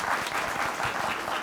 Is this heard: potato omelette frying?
no